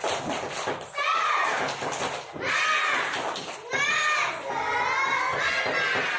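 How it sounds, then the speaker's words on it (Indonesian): Class 2A schoolchildren in an Indonesian classroom doing a rhythmic spirit clap chant together, loud and close, with their voices shouting in unison in three bursts. "Kita tepuk semangat dulu."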